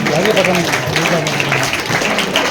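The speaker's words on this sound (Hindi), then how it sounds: "बच्चों ऐसे ही हंसते रहिए, तालियां बजाते रहिए." Schoolchildren applaud steadily at a Teachers' Day event at an Anglo Urdu high school, dense clapping with voices and cheering mixed in throughout.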